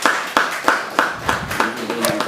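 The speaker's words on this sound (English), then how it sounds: "So please give her a round of applause." A small group claps for a student at a housing, transportation and telecommunications committee meeting, a short run of crisp, evenly spaced claps close by that thins out toward the end, with no voices over it.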